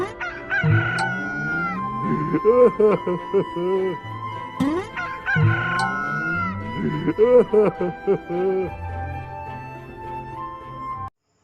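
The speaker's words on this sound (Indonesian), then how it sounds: "Saat mendengar ayam berkokok, Petrus menangis sedih sekali." A rooster crows twice in a Sunday school Bible story of Peter's denial. The long, wavering calls are loud and close, separated by a pause, over a low steady hum.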